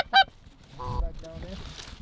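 Geese honk nearby during a field hunt in Ohio, a sharp loud call followed by several softer, nasal honks from a large flock.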